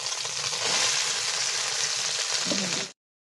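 Scrambled eggs with mixed vegetables and tomato sizzle steadily and loudly in a hot pan, a dense frying hiss with faint stirring that cuts off abruptly near the end.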